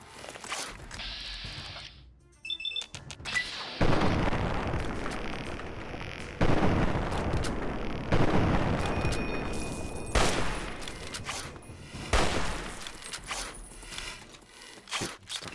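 Hunting rifle firing in the game Fallout 3, several loud, sharp shots and booming blasts with rumbling tails, spaced a couple of seconds apart, mixed with other combat noise.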